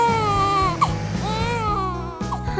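A cartoon character cries in an upset, wailing way, with sobbing, wavering pitched howls that rise and fall over a short, loud, continuous stretch with no other talk.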